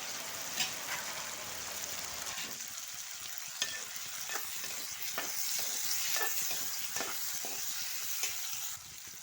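Ginger, garlic, green chillies and tomatoes fry in a pan for an egg curry, making a close, steady sizzle with irregular stirring clicks and scrapes.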